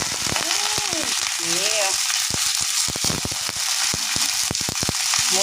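Chopped onions frying in hot oil for sautéed pechay crackle and sizzle loudly and close up, with sharp popping spatters throughout and a brief voice speaking.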